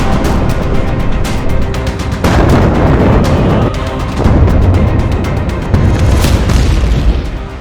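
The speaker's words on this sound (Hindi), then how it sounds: "पांच शहरों पर बमबारी," Explosions from bombing in Iran sound as repeated heavy booms and blasts, loud and densely layered in irregular bursts, with no speech.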